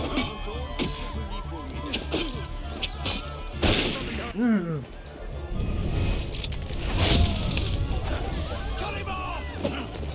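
Flashbang grenades burst in Assassin's Creed Unity as a series of sharp bangs scattered through a busy stretch of game noise, with clashing and crashing sounds and chatter in the background.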